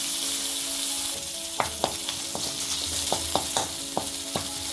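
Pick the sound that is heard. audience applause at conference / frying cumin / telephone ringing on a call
frying cumin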